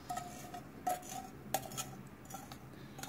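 Light clinks and taps of a glass bottle being handled as a homemade hair oil mixture is poured in, a few sharp isolated chinks over quiet room noise.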